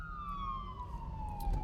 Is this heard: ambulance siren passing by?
yes